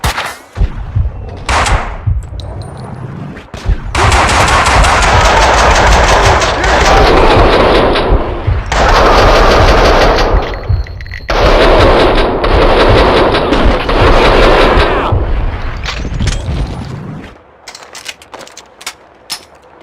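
Loud, sustained bursts of gunfire from the video game Max Payne 2, rapid volleys with brief pauses between them, dropping to quieter scattered shots at the end.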